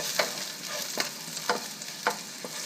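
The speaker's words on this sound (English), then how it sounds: "Just cook the garlic for a few seconds, maybe 10-20 seconds right here." Garlic frying briefly in a hot pan, a continuous close sizzle punctuated by about five rhythmic spatula scrapes as it is stirred.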